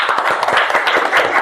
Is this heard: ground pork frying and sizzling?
no